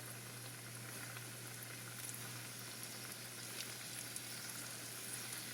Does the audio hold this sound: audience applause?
no